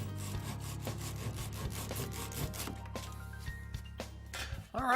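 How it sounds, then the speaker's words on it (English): Hand saw cutting off excess wooden dowels on a pine garden bench, steady rhythmic back-and-forth rasping strokes, close and fairly loud, ending with a sharper scrape. "Cut off any excess with a saw."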